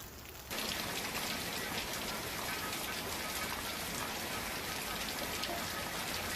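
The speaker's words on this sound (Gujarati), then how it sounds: "મોડી રાતથી જ પાલનપુરમાં વરસાદી માહોલ જામ્યો છે" Heavy monsoon rain pours down in Palanpur, Gujarat, as a dense, steady hiss that starts abruptly and fills the scene without a break. No voices are heard.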